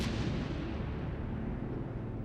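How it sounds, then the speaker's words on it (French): Deep, continuous rumbling roar of naval cannon fire at Aboukir Bay, loud and sustained without clear separate blasts, like a distant barrage rolling across the water. "La baie d'Aboukir reste hantée du grondement des canons."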